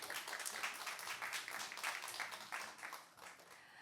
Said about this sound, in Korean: 큰 박수와 함께 강연 청해 보겠습니다